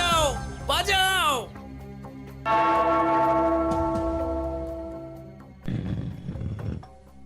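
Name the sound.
bell being rung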